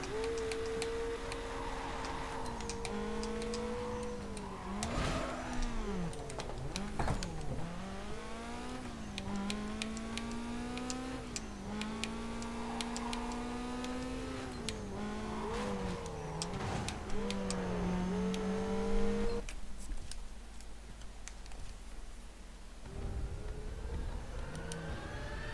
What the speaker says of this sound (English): Is it just me, or does she sound like she has a Gallardo engine?